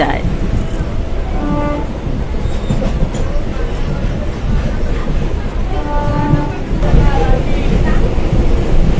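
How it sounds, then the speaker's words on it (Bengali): A lightly filled passenger train rumbles and rocks along the rails, a steady loud rolling roar with faint rhythmic clatter, growing louder near the end; a voice and other talk sit under the noise. "ট্রেনটা ফাঁকা বলে তো বেশ দুলছে"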